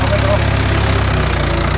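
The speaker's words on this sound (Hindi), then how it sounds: "RPM जहाँ से सुन रहे इसमें ट्रैक्टर RPM ड्रॉप करेगा" A brand-new Mahindra 585 DI XP Plus tractor working a reversible plough in third gear gives a loud, steady, close diesel drone with a low pulsing throb, its revs sagging slightly under load.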